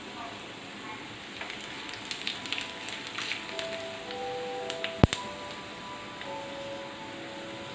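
Whole round red chillies and white cumin seeds sizzle and crackle in hot oil for a kadhi tadka, a soft steady fizz with scattered pops close by.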